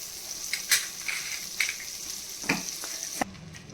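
Butter frying in a pan for white sauce pasta, a steady close sizzle with a few sharp clinks of a utensil against the pan and a slight drop near the end.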